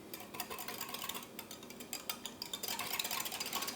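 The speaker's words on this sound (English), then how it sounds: "I am now adding the yeast and I'm going to stir it through." A spoon stirs yeast into sugared warm milk at about 100 to 110 degrees Fahrenheit. It gives quick, light, irregular clinks and scrapes against the bowl, close up and fairly quiet.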